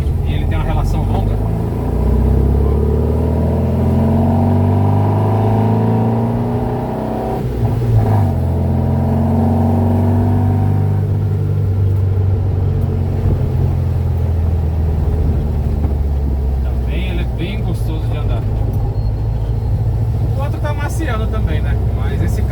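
A 1976 Volkswagen Fusca 1600 drives along while its air-cooled engine rumbles and revs through the gears with rising and falling pitch, and someone talks steadily over the engine noise.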